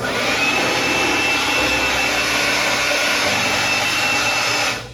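A DeWalt jobsite blower runs steadily at close range, a loud broadband whoosh with a thin high whine held for about five seconds before cutting off at the end.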